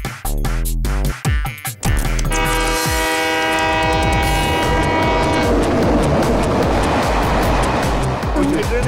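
A cartoon train pulls in, its horn sounding long and loud over heavy rumbling wheels and rushing noise, with a few sharp clanks at the start.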